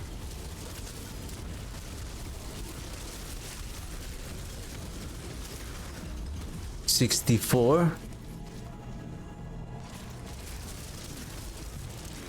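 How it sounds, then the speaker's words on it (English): Skeleton minions blow up together from the Ring of Mendeln in Diablo, a short cluster of loud popping blasts lasting about a second amid ongoing game noise and talking. "I think those are the combination of the explosion of the ring of Mendeln from our skeletons"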